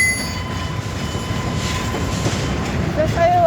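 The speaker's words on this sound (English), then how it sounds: "I think that's the second locomotive" A train led by EMD locomotives passes at night with a continuous rolling rumble and rail noise, plus a few faint high squeals near the end.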